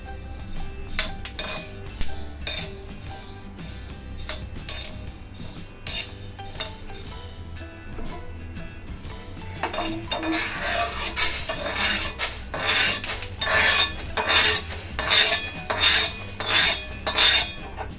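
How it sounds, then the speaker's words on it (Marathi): Roasted horse gram is scraped out of a pan onto a plate, heard as repeated metallic clinks and scrapes, sparse at first and then busier, louder and more continuous. "आता ते काढते मी ताटात।"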